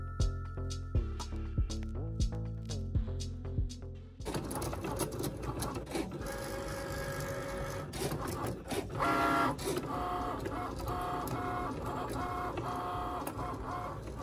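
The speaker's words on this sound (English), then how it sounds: "And while the Cricut is cutting my second one" A Cricut cutting machine slices iron-on vinyl, giving steady mechanical whirring and rapid clicking motor strokes throughout, with a few sharp repeated clacks at the start, close and fairly loud, with no talk.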